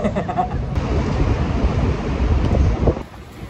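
Heavy, continuous wind buffeting against a microphone, a loud rumbling roar that never lets up, cutting off near the end.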